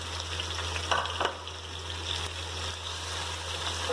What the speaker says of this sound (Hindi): अब हम प्याज के साथ इसको अच्छी तरह से भून लेंगे